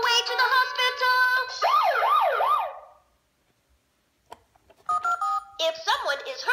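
A VTech Go!Go! Smart Wheels toy ambulance plays a bright electronic siren that wails up and down between bursts of beeping tones, loud and close, with a short silent gap before the toy sounds resume.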